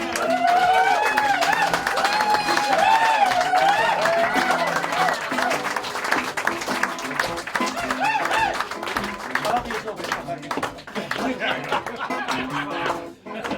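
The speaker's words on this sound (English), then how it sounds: "I'd like to take this opportunity to ask for a big round of applause" A large audience claps and cheers in a big round of applause at an evening event, a dense wash of clapping mixed with crowd chatter and laughter, loud and sustained before tapering near the end.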